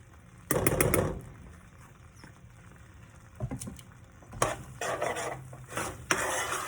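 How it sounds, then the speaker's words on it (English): A spoon scraping and stirring frying beans across the bottom of a hot pan in bursts of gritty rasping, with a constant low sizzle between strokes, close and fairly loud. "Scrape the beans from the bottom."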